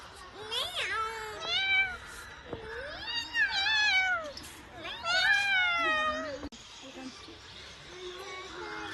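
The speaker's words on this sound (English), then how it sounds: "A jungle cat." A jungle cat at Bannerghatta zoo gives several drawn-out, wavering meows in close succession, fairly near and clear, with a brief pause before a final cry.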